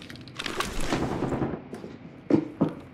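Gunfire in the video game Arena Breakout Infinite, a rapid burst of shots for about a second followed by two sharp single reports near the end, fairly close and moderately loud.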